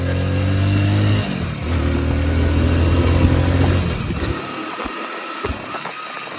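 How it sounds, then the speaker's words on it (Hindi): Motorcycle engine running on E20 petrol with a throttle body fault, idling loudly and close with an uneven, occasionally stumbling beat, then dropping to a rougher, lower idle with brief sputters. "बीच में हल्की हल्की मिसिंग ले रहा है"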